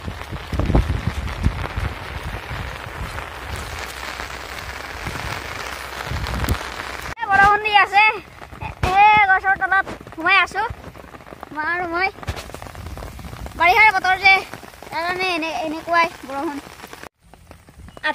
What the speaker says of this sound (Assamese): আধা ঘণ্টামানৰ পিছত বৰষুণ কমিছেগৈ